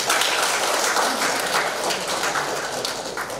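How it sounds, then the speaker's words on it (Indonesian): An audience at a doctoral promotion exam applauds, a dense, even wash of clapping that fills the room and continues steadily for a few seconds. "Tepuk tangan."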